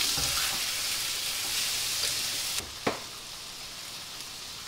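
Tofu, fishballs and shrimp fry with softened shallots and garlic in a home kitchen pan, a steady broadband sizzle with a couple of brief clinks of utensils stirring partway through.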